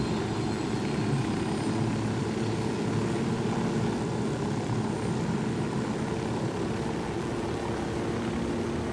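Steady, loud helicopter rotor and engine drone in a Ghost Recon: Wildlands video game, a continuous close roar with no break.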